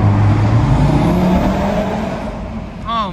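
An Audi RS3 on lowered H&R springs under way, its engine droning loud and close with a deep falling tone, then a brief whistling turbo spool rising near the end.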